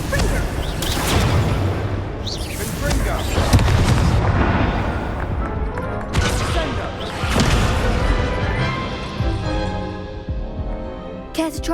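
Repeated booming blasts and crashes from the Confringo fire spell in the Hogwarts Legacy video game, several heavy impacts spread across the stretch, with game voices speaking between them.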